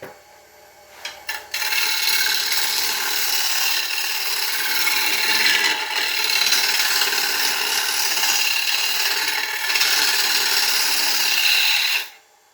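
Bowl gouge cutting an ash bowl on a wood lathe, a steady, loud, hissing scrape that runs almost unbroken for about ten seconds after a few short opening catches, then stops abruptly.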